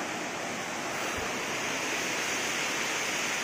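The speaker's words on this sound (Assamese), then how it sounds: "এইটো দেখিছে নদী ঢলে ঢলে গৈ আছে পুৰা তলিত" Steady broadband rushing of a river flowing far below a high hillside on the way to Sesa waterfall in Assam, with a constant roar and wind buffeting the microphone and no voices.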